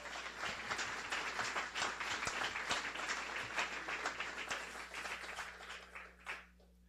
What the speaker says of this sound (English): if you could give a warm round of applause for Linda Conley